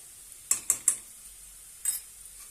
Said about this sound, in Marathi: आणि छानपैकी परतून घेऊया